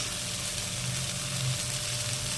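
Tomato stirred and frying in hot oil for a fish-head moong dal, a steady, close sizzle with low spoon-stirring rumble throughout, no talk.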